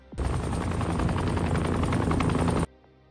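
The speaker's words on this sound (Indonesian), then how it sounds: "setelah dia mendengar 3 suara helikopter" A film helicopter thunders in abruptly with a loud, fast rhythmic rotor chop. It holds steady and close for about two and a half seconds, then cuts off sharply to near quiet.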